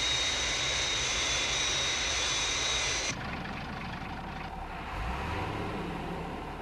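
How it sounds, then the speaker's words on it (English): The Fireflash jet airliner on final approach gives a steady jet-engine roar that drops abruptly to a lower, quieter drone partway through. "Aircraft approaching glide path 5 miles to threshold."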